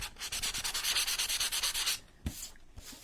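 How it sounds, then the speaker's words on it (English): Fine 320 grit sandpaper is rubbed lightly by hand in quick rhythmic back-and-forth strokes, a close, crisp scratchy hiss lasting about two seconds before stopping, followed by a few faint handling knocks. "to very lightly sand it."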